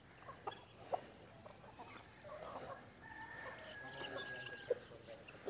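At a mini zoo, a rooster gives soft, scattered clucks against quiet outdoor background noise, with a few brief louder calls standing out faintly at a distance.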